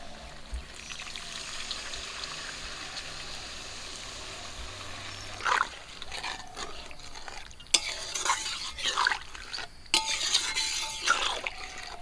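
Hilsa fish gets stirred in a pan, quiet at first, then wet scraping and sloshing strokes arrive in short bursts from the midpoint, close and without talk.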